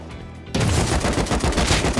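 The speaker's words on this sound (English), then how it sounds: "That was me shooting." Gunfire in the survival game Rust: a loud, dense burst of rapid shots starts abruptly after a quiet moment and continues without pause.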